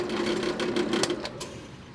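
Welding axle hangers onto a go-kart parts hauler frame built from a kid's wagon: a steady, close buzzing crackle that runs unbroken for about two seconds with no talk.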